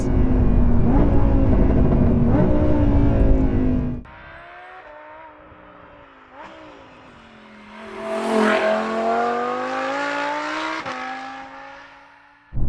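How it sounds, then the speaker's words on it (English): A Lamborghini Huracan LP580-2 on a UK road: a loud engine revs hard and accelerates, drops off at a gear change, then climbs again in a strong, rising wail before backing off with a rev-matched downshift. "Second gear, we've got rev match, downshifts as usual."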